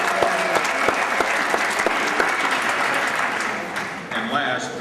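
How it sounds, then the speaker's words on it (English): A crowd applauds the parents at a home-school graduation ceremony, steady sustained clapping with a few whoops, fairly close and full, tapering slightly toward the end. "I'd like to have a round of applause for all of the parents"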